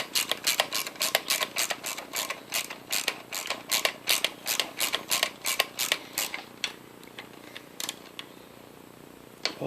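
Bolts turned into new helicoil thread inserts on an Atlas QC42 lathe gearbox with a ratchet wrench, a long close run of rhythmic ratcheting clicks that slows and thins toward the end.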